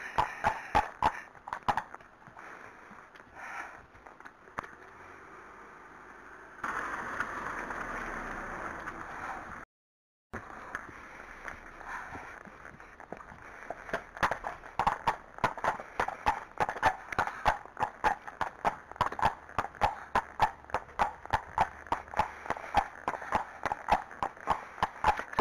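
Friesian horse Apollo's hooves clip-clopping steadily on a hack ride along a country route, a close, regular rhythm that runs throughout with a brief pause partway, no talk.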